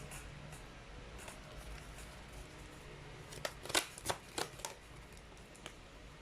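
Tarot cards being shuffled and drawn, a quiet riffle followed by a cluster of crisp flicking and slapping snaps as cards are pulled, close and soft with no talking.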